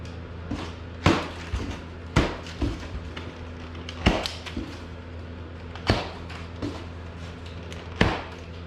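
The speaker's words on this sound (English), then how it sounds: "we'll cut this open and see what we got inside" A blade slicing open the cardboard box of a 30-inch U.S. General tool cart: a series of sharp ripping cuts and thumps at irregular intervals, close and fairly loud, with quiet pauses between strokes and no talking.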